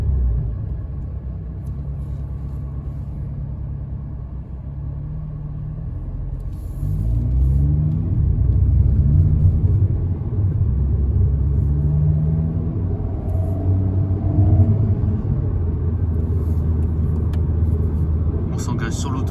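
An Alpine A110 sports car drives onto a motorway, its engine a steady low rumble inside the cabin that swells as it accelerates, then settles into a strong, even drone at speed.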